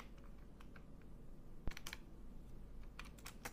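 Typing a search on a computer keyboard, with scattered light key clicks and one sharper tap, faint over a steady background hiss.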